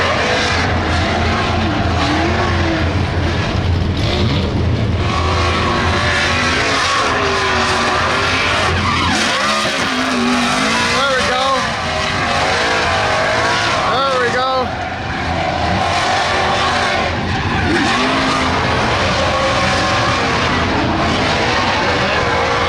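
A Ford Mustang RTR race car roars around a track at the Freedom Factory, its loud engine surging and fading through corners with tire squeal, heard with talk over it throughout.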